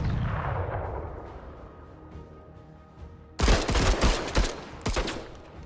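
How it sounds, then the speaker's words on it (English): Rocket fired in the tactical game Menace, a fading rumble followed by a sudden loud burst and several sharp blasts in quick succession. "Fire a rocket down its gullet, please"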